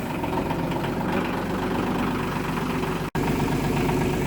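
A diesel engine with glow plugs idles steadily and loudly up close, a constant low rumble that cuts out for an instant before resuming.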